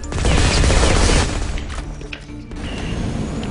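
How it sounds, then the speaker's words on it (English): Grenade launcher fire in the video game Firefall: a loud burst of heavy booming blasts fills the first second, then fades into lower rumbling debris and a quieter sustained roar. "basically I have a grenade launcher for a brief second"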